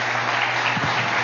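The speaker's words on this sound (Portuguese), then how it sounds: "nós vamos aplaudir ao nome do nosso Senhor Jesus Cristo." A church congregation claps together in a steady, dense burst of applause that fills the short moment evenly.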